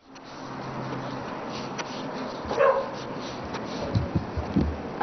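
A dog whimpers and yips in short, faint bursts over steady background noise, with a few brief louder cries near the middle and end.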